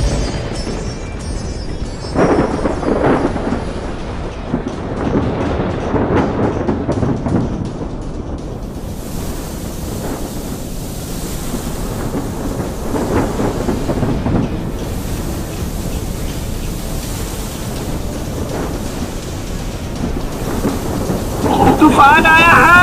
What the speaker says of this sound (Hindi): तभी बीच समुद्र में अचानक भयानक तूफान आ जाता है।